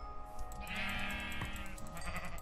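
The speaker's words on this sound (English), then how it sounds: "more sheep." A sheep in a video game gives a drawn-out bleat, heard over a steady, dense background of game noise and ambience, with no talking.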